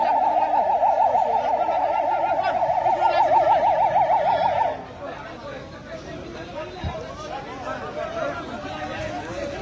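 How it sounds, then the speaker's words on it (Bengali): A fire service vehicle arrives at a dawn blaze in Sherpur that burned several shops. Its loud wailing siren rises and falls steadily for about five seconds, then cuts off, leaving a crowd chattering and voices talking. "এই যে ফায়ার সার্ভিসের গাড়ি এখন আরেকটা আসছে আমাদের"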